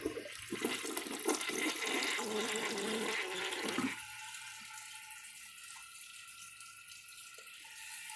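A 2008 Mansfield Alto toilet flushes loudly for about four seconds, then cuts to a quieter hiss of the tank refilling with water that runs steadily to the end.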